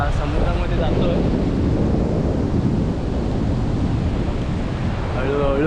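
Sea waves roar continuously at a Ganpatipule beach in Ratnagiri, loud, close and dense, with wind buffeting the microphone throughout.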